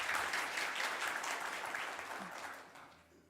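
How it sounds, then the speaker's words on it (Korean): A church congregation at a Friday worship service claps in encouragement, dense clapping that starts full and slowly fades out over about three seconds, heard alone without talk. "격려의 박수 한번 보내주시겠습니까?"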